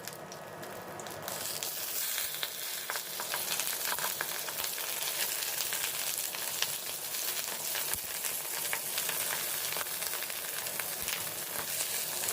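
Paneer paturi fries in a kadai on medium flame, with a continuous close crackling sizzle and some scattered clicks and scrapes as the pieces are turned over. No one speaks.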